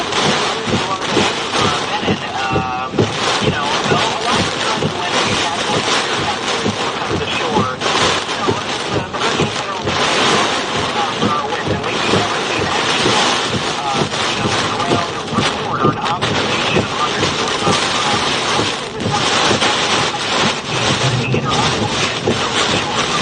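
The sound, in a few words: hurricane winds during Hurricane Helene landfall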